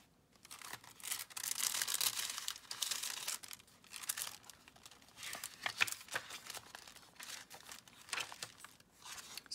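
Sheets of coffee-dyed blue paper crinkle and rustle up close while a butterfly envelope junk journal is being made, in a series of dry, crisp bursts with short pauses between them and no voices.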